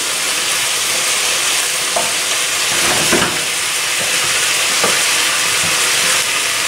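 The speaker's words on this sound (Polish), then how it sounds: "Mięso mieszamy, aby się równomiernie przysmażyło." Meat fries loudly in a pot for goulash soup, a thick, steady sizzling hiss close up, with occasional dull scrapes and knocks of a spoon stirring through it.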